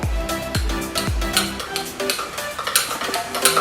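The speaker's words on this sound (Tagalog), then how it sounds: "We are going to stir again using the stirring rod." A stirring rod mixing mashed banana with liquid detergent in a container for DNA extraction, giving repeated close clinks and scraping strokes in a quick, steady rhythm.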